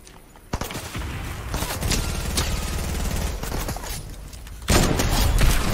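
Rapid hand cannon gunfire in an online shooter video game, a dense, loud burst of repeated shots running nearly continuously, swelling louder toward the end.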